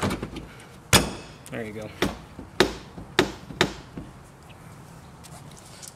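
A Spyder LED halo projector headlight is tapped into place on a 2009–2014 Ford F150, giving about six sharp, hollow knocks at uneven intervals, close and fairly loud, with someone speaking briefly between them.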